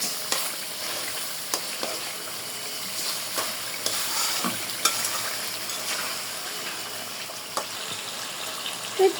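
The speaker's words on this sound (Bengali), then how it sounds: "তিন চার মিনিটের জন্য একটু কষায় নেব" Aair river fish sautéing in hot oil in a pan gives a soft, steady sizzle, broken by scattered clicks and scrapes of stirring. The sound is moderately quiet and close, with no voices.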